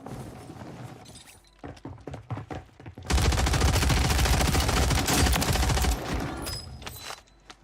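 Video game gunfire: scattered sharp shots at first, then a loud sustained burst of rapid automatic fire for about three seconds, tapering into sparse shots at the end.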